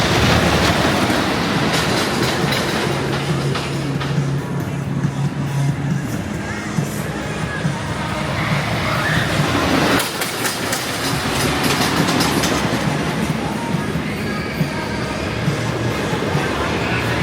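Thunderhawk wooden roller coaster at Dorney Park amusement park, a loud continuous rumbling and clattering ride with rattling track noise, heard up close throughout with faint crowd voices.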